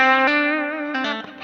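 An electric guitar run through a reverb pedal rings out in sustained, harmonically rich notes with a long washy tail. A fresh note is struck every half second or so, each one blooming over the fading reverb.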